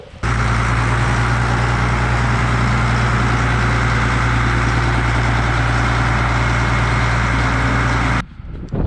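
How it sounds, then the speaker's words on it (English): A Case 2294 tractor on a farm, about to be hooked to a hay buster, idles with a steady, loud, close diesel rumble that holds unchanged until it cuts off near the end. "We've got to grab this Case tractor right here, 2294."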